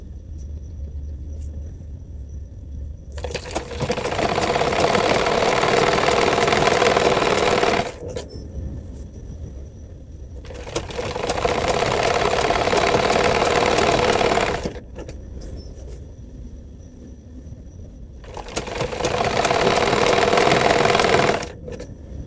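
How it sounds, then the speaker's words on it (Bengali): A sewing machine stitches elastic onto a salwar in three loud, steady bursts of rapid whirring, each several seconds long, separated by brief quiet pauses with a low background hum. "যখনই সেলাই করবেন রাবারটা টান দিয়ে সেলাই করবেন"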